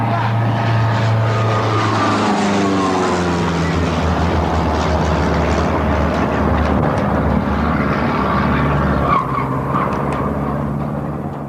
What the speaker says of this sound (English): That's the sound of a small plane repeatedly diving down out of the sky toward the South Boston Postal Annex